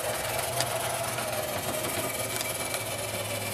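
An AHM model Heisler locomotive runs on a layout, giving a steady close mechanical whir and rattle with a low hum beneath and faint clicks throughout.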